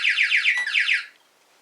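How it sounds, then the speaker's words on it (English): A Texecom Premier alarm panel sounds its activation tone, a rapid sequence of repeated warbling electronic chirps that continues for about a second before stopping, with a brief lower thud partway through. "Should your Texecom Premier panel activate whilst unset,"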